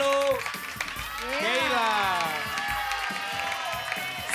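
A crowd claps and cheers under loud, sweeping music, with a voice speaking briefly at the start.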